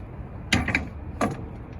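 Spring-assisted loading ramp on a Chevrolet Express cargo van folding out, two short mechanical clunks with a metallic rattle, close, in an otherwise quiet space.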